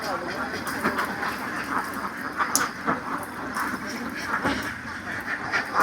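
Ducks quack in a steady scatter on a duck farm in Laos, yellow and black birds calling continuously at moderate distance with broad farmyard background noise and a few sharper bursts.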